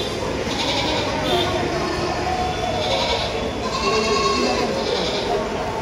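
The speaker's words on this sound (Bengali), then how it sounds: "আমরা সবাই ছাগলের বাজারে চলে আসছি আকিকার জন্য।" Goats bleat at a busy goat market, several wavering cries rising above a constant crowd murmur and nearby conversation.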